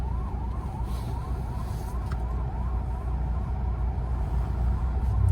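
An ambulance siren wails in a steady repeating up-and-down cycle, somewhat distant, over heavy low traffic rumble and engine noise.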